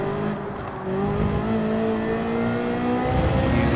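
A Ferrari 458 GT4 race car in Gran Turismo 7 holds a loud, steady engine drone with slowly rising pitch as it accelerates, heard close from the car, with no talk.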